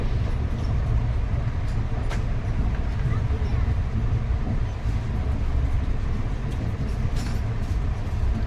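The Ranchi–Howrah Shatabdi Express pulls into Bokaro Steel City station with a continuous heavy rumble of wheels and carriages, and voices talk over it.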